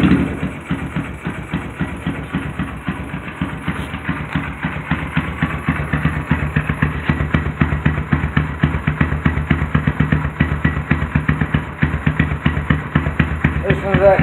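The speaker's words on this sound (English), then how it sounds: "this is after I put a bigger cam in it, so now you can really hear the cam. Alright, I'll start it for you." A Honda Grom motorcycle fitted with a bigger cam idles close by, its not-yet-warm engine chugging in a steady, lumpy rapid rhythm that holds loud and even throughout.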